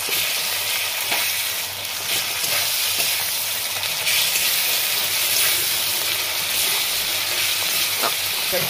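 Onions with green chili sizzle in hot oil as ginger-garlic paste goes in, a steady loud frying hiss with occasional scrapes of stirring, close and continuous with no talk.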